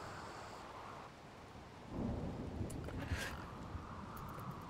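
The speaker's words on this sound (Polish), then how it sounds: "Pada deszcz? Pada." Rain falls steadily in the video game RimWorld, and a low rumble of thunder swells midway, fairly quiet overall with no voices.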